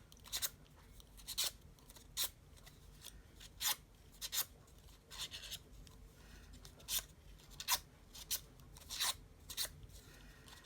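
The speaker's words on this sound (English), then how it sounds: "I'm just using the blade of my scissors." Scissor blades rub along paper flower petals to curl them, giving a series of short, crisp scraping strokes at an irregular steady pace, close and quiet with no talking.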